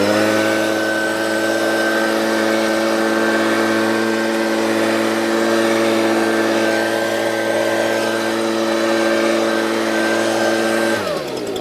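Stihl leaf blower running steadily at close range while clearing leaves off a concrete golf pad, a loud constant whine and drone that holds for about eleven seconds before cutting off abruptly at the end.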